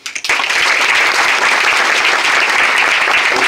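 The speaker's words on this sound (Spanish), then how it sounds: "a quien le pido un aplauso" Loud, sustained applause from a large crowd at a political gathering breaks out after a brief voice and holds as a dense, even wash of clapping.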